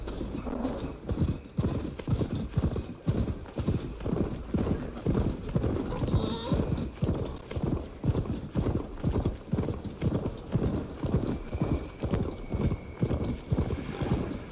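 A horse trots steadily across a primitive-era video game world, its hooves clip-clopping in a regular, close rhythm for a long stretch, with a brief neigh and some quiet speech.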